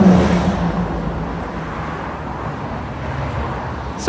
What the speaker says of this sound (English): just waiting for the traffic to die down.